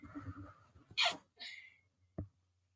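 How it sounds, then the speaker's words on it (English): A person sneezes once, abruptly and loudly, after some quick breaths, then snorts and gives a short sniff, all close to the microphone in a quiet room. "Y'all got to sneeze all of a sudden."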